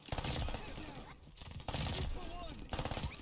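An Armaguerra-43 submachine gun in Call of Duty: Vanguard, firing in long, rapid bursts at a very high rate of fire, loud and close, with short pauses between the bursts.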